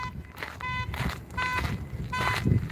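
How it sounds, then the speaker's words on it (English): Somewhere in a Texas nature park near a lake, a car alarm sounds in the distance with repeated short bursts of electronic tones, over footsteps and outdoor background noise. "Somebody's alarm's going off, but it's not mine because I know how my alarm sounds."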